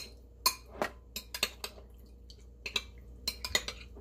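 Raw salmon is washed with vinegar and salt in a bowl, with scattered light clinks and knocks against the dish and faint wet handling sounds. The clatter comes in irregular bursts and there is no talk.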